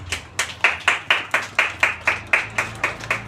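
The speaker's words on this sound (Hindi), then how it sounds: "तो ऐसे शख्स के लिए एक बार जोरदार ताली" A small audience claps in a steady, evenly spaced rhythm, about a dozen sharp unison claps over a few seconds, close and fairly loud with no talking over them.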